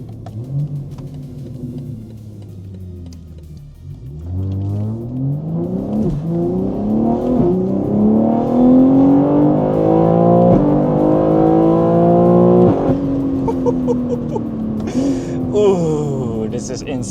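A BMW G80 M3 fitted with an equal-length exhaust idles low, then revs up hard through rising gear pulls, loud and close, its engine note climbing steadily before easing off near the end.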